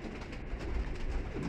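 Pigeons coo in a loft at a Lahore pigeon-keeping gathering, with soft low throaty calls repeating close by over a steady murmur of background noise, and no speech heard.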